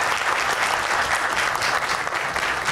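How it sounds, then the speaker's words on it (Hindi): Sustained, thick clapping from an audience at a discussion gathering of kite makers and kite flyers about the Basant festival, even and continuous with no talking over it. "मैं चाहता हूँ कि सब दोस्त तालियां बजा के इनको खराज तहसीन पेश करें"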